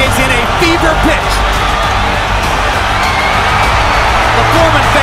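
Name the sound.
boxing arena crowd cheering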